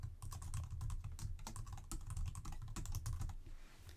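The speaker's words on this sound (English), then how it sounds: "Type in your faculty, staff, or student email address." Fast, continuous clatter of computer keyboard keys as an email address is typed, close and clear, with no talking, easing off at the end.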